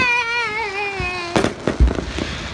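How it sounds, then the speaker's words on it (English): Fireworks go off nearby with a rising whistle followed by several sharp bangs and crackles in quick succession. "They're setting off."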